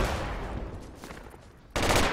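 Project Reality video game gunfire: a rattling burst of distant shots that thins out, then a sudden loud burst near the end.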